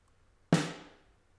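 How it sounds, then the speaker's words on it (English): One snare drum strike picked up by a room mic roughly four feet above the drum, a crisp isolated crack that fades through a short ambient tail. "this is the room mic when it's right over the snare drum, about maybe 4 feet above it"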